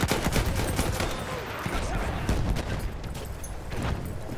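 Continuous machine gun turret fire in Battlefield 1, a dense, loud stream of rapid shots and blasts that runs the whole time with no pauses. A voice speaks faintly under it.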